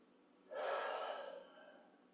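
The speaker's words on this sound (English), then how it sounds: "And taking a couple more deep breaths here." A single deep breath taken while holding a yoga-style stretch: a long, close inhale-exhale that swells quickly and fades gradually, alone in a quiet room.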